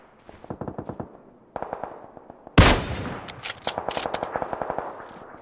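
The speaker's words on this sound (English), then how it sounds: "There's a lot of gunfire over there." Gunfire in the battle royale game PUBG: rapid automatic bursts of rhythmic shots, fairly faint at first, then a loud close blast followed by further sustained volleys.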